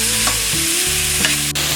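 Flat beans (val papdi) with turmeric frying over high flame in a pan, giving a steady close sizzle broken by a few scraping stirs and one sharp clink near the end.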